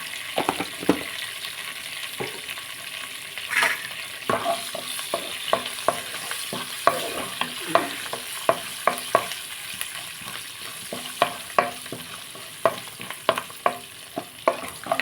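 Cabbage frying in a pan with turmeric, a continuous close sizzle broken by frequent scraping stir strokes and clicks of a spoon against the pan, with no talk.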